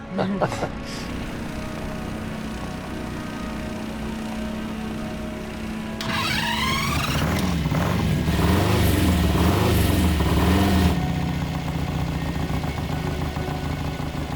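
A Harley-Davidson dirt tracker motorcycle runs a lap, its engine droning steadily before swelling into a louder, rising rev midway and then settling back to a constant hum.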